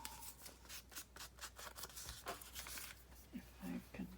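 Scissors snip a small divot out of paper for a bird-themed junk journal pocket, a close series of rapid crisp cuts and rustling paper, followed by a few soft handling taps.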